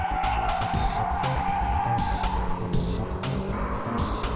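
A car brakes hard and slides through a corner in a drift, its tires squealing loudly and continuously over a steady engine roar.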